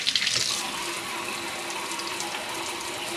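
Water pours steadily from a tap for a quick rinse, a close, even hiss and splash that starts with a brief burst of spatter and then holds constant, with no voices.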